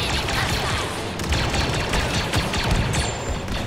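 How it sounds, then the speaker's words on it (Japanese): A grenade blast erupts amid a dense, continuous roar of gunfire and explosions in a Star Wars Battlefront 2 online battle, loud and chaotic from start to finish. "ここグレネード"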